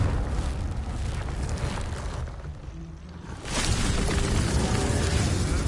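A Confringo fire spell blast in Hogwarts Legacy, a loud roaring burst with a rushing fiery whoosh that dips briefly, then surges back into a sustained blast with no talking.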